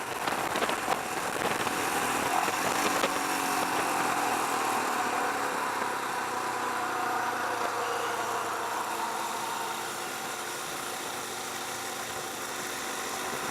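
A Royal Enfield Himalayan motorcycle engine cruising at about 55, a steady mid-pitched drone with mild vibration and wind rush that stays even and smooth for the whole stretch.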